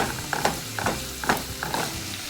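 Partly frozen ground beef is chopped and stirred in a pan: a close series of scraping, clattering strokes over a soft, steady sizzle, with no talk.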